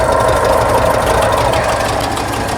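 A 1966 VW Fastback air-cooled engine runs with its distributor cap left unclamped, giving a loud, close, steady idle with a dense rough chatter and no voices.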